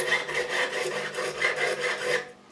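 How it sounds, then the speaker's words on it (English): A clean profiling file rasps back and forth across a guitar fret on a Godin LGX SA, with steady close strokes of about six even passes, alone and fairly quiet, tapering off at the end. "Clean profiling file. And across the whole fret, reprofile."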